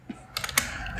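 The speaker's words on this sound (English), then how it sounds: "I will use my keyboard to enter this thing" Keys on a computer keyboard click in a short, quick run of close taps over a faint background hum.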